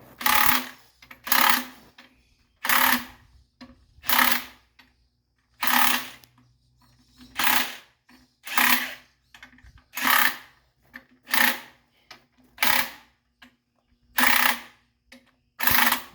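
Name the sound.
impact wrench removing a pin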